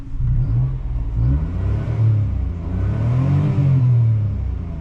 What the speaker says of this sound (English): little exhaust note check